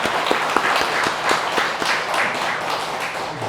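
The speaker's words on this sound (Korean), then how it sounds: "우리 잠깐 인사하실 때 박수로 환영해주십니다." A church congregation claps during a Sunday worship service to welcome visitors, with a dense, steady patter of many hands and a few sharper individual claps standing out over the 3.6 seconds.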